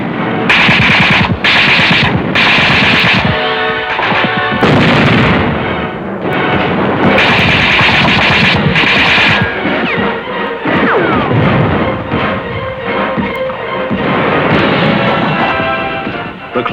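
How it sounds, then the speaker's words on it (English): American tanks fire their guns point blank at defenders hidden in grandstands during a wartime battle, a loud, dense barrage of rapid machine-gun bursts and heavy booming blasts that runs nearly continuously. "American tanks in the infield fired their guns point blank at enemy defenders who were hidden in the"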